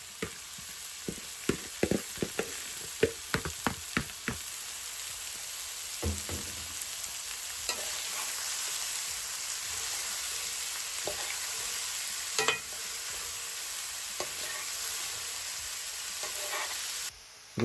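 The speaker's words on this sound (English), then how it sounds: "Now we'll add in the red onions." Red onions frying in oil for a curry, sizzling steadily with a constant crackling hiss, punctuated by repeated clicks and scrapes of stirring, close and continuous.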